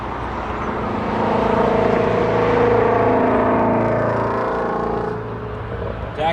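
An Embraer E175LR regional jet, a Republic Airways United Express flight, taxis at Toronto Pearson airport with a steady jet-engine hum and whine that swells slightly mid-way, then eases.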